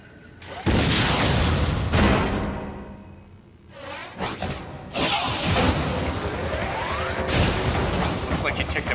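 A missile launched and bursting in Metroid: Other M, loud booming blasts and rumbling debris filling the scene, with game effects and some voice.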